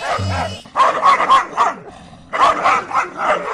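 Rapid, loud dog barking close by, a burst of barks, a brief pause, then another burst, with a faint whine at the start.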